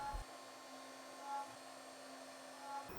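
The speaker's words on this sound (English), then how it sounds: "Spot drilling deep enough so it leaves the correct sized chamfer for tapping after" A CNC machine spot drills with a 4mm 90-degree spotting drill, a steady faint high whine of the spindle holding an even tone throughout, quiet and continuous with no voices.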